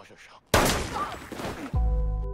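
In a film scene, a sudden loud gunshot blast from a mafia boss cuts in over a dramatic backdrop, followed by a heavy low rumble and sustained tone.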